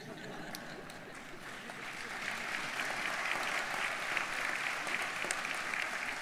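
A university spring convocation audience keeps applauding an honorary degree presentation, a broad, distant wash of many hands clapping that swells partway through and continues steadily with some crowd murmur.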